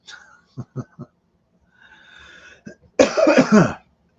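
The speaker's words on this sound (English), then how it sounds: "There's an allergy cough." A burst of three quick dry allergy coughs, a pause with some breathy noise, then a louder, harsher cough close to the microphone.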